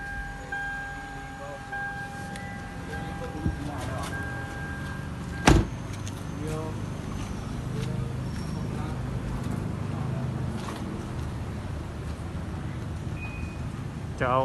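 Toyota Camry ACV40 2.0 with a keyless smart alarm system auto-locking, its power windows motoring shut beside the car, with a sharp lock click midway and a voice talking over the steady background.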